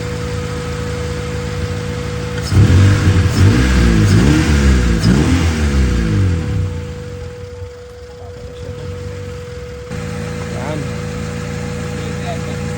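A car engine cranks and starts, then revs hard under throttle for a few seconds before settling to a lower idle, loud and close, with people talking over it.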